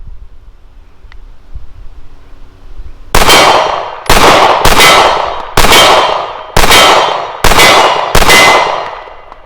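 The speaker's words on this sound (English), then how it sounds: "Just do a mag dump on the silhouette and see what happens." Seven evenly spaced shots from a Remington R51 pistol emptying its magazine at a steel silhouette target on an outdoor range, each loud report followed by a ringing metallic clang, after a few quiet seconds.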